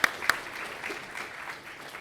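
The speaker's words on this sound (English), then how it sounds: "shall we welcome our speaker for this evening with a round of applause" An audience at an evening physics talk claps to welcome the speaker, with a couple of sharp near claps at the start followed by a softer, scattered round of applause.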